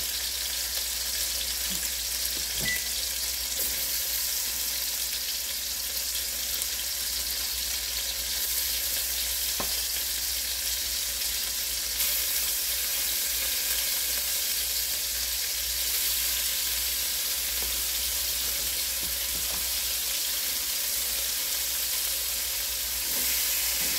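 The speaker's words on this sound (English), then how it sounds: "I will come and brown it first just to deepen that flavor." Constant loud sizzle and hiss of pork browning in a hot pot for stew, steady throughout with a few faint clicks and no voices.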